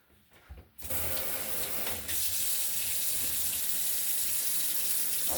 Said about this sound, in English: let my faucet run to just a trickle